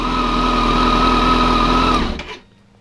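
Kawasaki ZZR1400 motorcycle engine running after a crankshaft repair, a steady, loud, close idle with a high-pitched whine that cuts off abruptly and fades to near silence.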